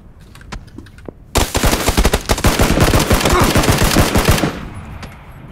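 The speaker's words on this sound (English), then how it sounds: "someone else is sniping me" A loud, sustained burst of rapid gunfire lasts about three seconds during a firefight in the battle-royale video game PLAYERUNKNOWN'S BATTLEGROUNDS, with faint scattered shots before it and no talking.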